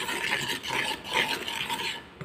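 Henna powder being mixed by hand into a thick paste in a bowl, a steady scraping, rubbing stir with brief pauses, close and fairly loud, no voices.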